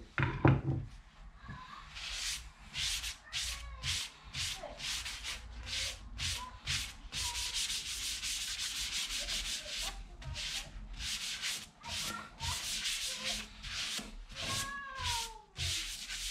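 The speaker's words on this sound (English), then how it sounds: "I'm going to go over it with some Yorkshire grit" Yorkshire grit buffed over an elm burl urn lamp base spinning on a woodturning lathe gives steady abrasive rubbing and hiss, with repeated short rasping bursts over the lathe's low hum and no talking.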